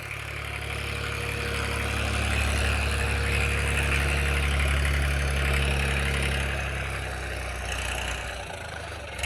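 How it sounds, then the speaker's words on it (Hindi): A heavy diesel New Holland 3032 TX tractor engine with a new silencer roars at steady high revs for several seconds, then the throttle is released and the sound drops back toward idle. "जिस टाइम भाइयों रेस छोड़ते हैं उस टाइम भाइयों अलग ही आवाज़ निकल कर आती है ट्रैक्टर की"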